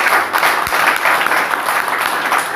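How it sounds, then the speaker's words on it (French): A church congregation claps together in praise, a brief, loud burst of dense applause filling the room from start to finish. "Applaudissons pour le nom du Seigneur Jésus."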